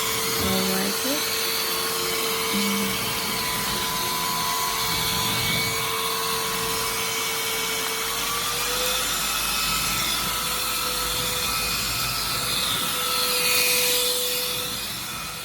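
A Devanti cordless handheld stick vacuum cleaner, bagless with two speeds, runs with a steady high motor whine and airflow hiss throughout, close and fairly loud, with faint speech-like sounds underneath.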